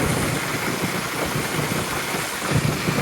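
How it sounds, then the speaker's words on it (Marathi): A motorcycle engine runs steadily on a rainy road trip from Sangmeshwar toward Dapoli in the Konkan, a loud, continuous low rumble with a dense, even drone and no talk over it. "सुमितची बाईक आहे, तो त्याच्या बाईकवर आणि मी माझ्या बाईकवर."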